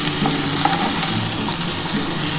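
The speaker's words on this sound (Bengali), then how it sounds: "আমার কিন্তু আলু, কাঁচকলা আর পেঁপে একসাথে কিন্তু ভাজা মোটামুটি হয়ে গেছে" Potato, green banana and papaya pieces fry in a pan with very little oil, making a steady, loud, unbroken sizzle and crackle from close range with no talking.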